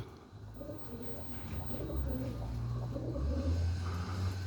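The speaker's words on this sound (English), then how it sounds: "Some of my kit birds, Boston Ripping Rollers" Boston Ripping Roller pigeons coo softly and repeatedly outdoors on a morning, low throaty calls repeating under light background noise.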